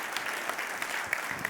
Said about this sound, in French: Alors est-ce qu'on peut applaudir pour de vrai, s'il vous plaît ?